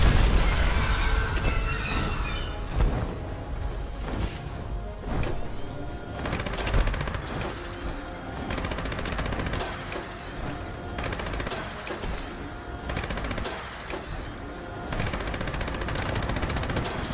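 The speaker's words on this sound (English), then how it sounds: "Trying to shoot the guy's wings, but a lot of the bullets go right through." Sustained automatic gunfire from Fallout 76, loud and close, with rapid bursts layered over booming impacts and explosions, no talking.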